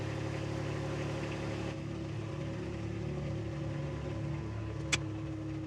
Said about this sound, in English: It's pulling it pretty easy. This tractor's pretty light.